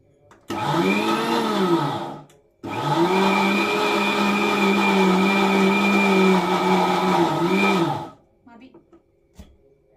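A mixer grinder jar with no lid grinds batter for Mangalore bajji, a loud close whirring roar that runs about two seconds, pauses briefly, then runs again for over five seconds before cutting off.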